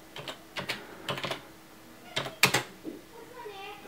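Keystrokes on a computer keyboard as a command is typed into a command window on a Nexus 10 rooting setup, coming in quick bursts of clicks with pauses between them, fairly close and clear, with no talking over them.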